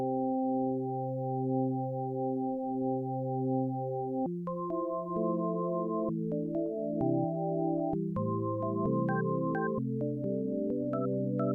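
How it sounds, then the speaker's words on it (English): Freex Oscillator synth voiced with two slightly detuned sine waves an octave apart plays clean, pure sustained tones shifting through a sequence of chords and notes, smooth and gentle with no talk. "Let's load up Freex Oscillator with 2 slightly detuned sines an octave apart."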